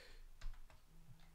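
A few soft computer keyboard keystrokes come in an uneven cluster during a Clojure programming session, faint and close, with no talking.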